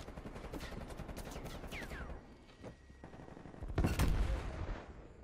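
Rapid bursts of QBZ-83 rifle fire in Call of Duty Cold War, several quick volleys early, a pause, then a heavier loud burst near the end, with no talking.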